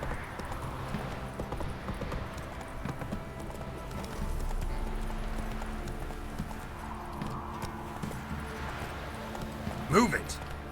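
Roach the horse galloping in The Witcher 3 on Nintendo Switch, quick rhythmic hoofbeats clopping steadily and close, with a brief whinny near the end and a voice talking over it.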